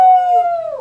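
A human voice imitates a dog howl during a children's music class sing-along with a Border Collie puppet, one loud sustained wavering howl that slides gently downward.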